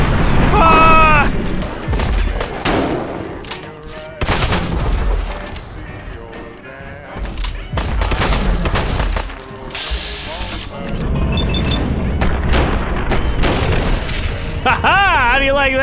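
Gunfire in the video game Fallout 4 comes as a series of sharp, booming shots and bursts scattered across the stretch, mixed with excited talking.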